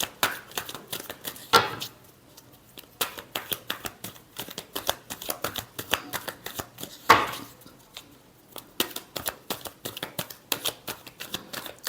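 Tarot cards being shuffled by hand in quick, repeated riffling bursts, close and crisp, with a couple of sharper snaps as the deck is squared.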